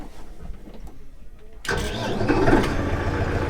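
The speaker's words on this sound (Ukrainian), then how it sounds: "Все, ми трактор завели" Quiet background, then a Basak 2110S tractor engine cranks and roars to life, settling into a loud, rough, steady running rumble close by.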